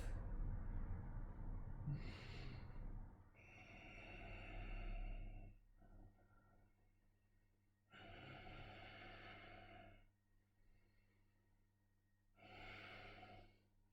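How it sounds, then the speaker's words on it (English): Slow, deep Ujjayi yoga breaths, each a long throaty rushing hiss lasting a few seconds, repeat with quiet pauses between them, close and soft. "you start doing this Ujjayi breath"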